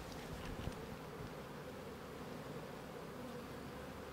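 Honeybees buzz in an open hive during an inspection for swarm prevention, a soft, continuous, close drone with light rustling, faint overall.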